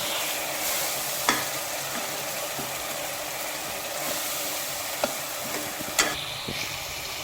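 Tomato and masala frying in a pan make a steady, soft sizzle, broken by a few sharp clinks of a spoon against the pan.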